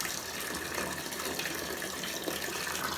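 An Aquael Ultramax 2000 aquarium filter pumps water into a bucket, giving a steady, continuous gushing and splashing stream at moderate level with no talk.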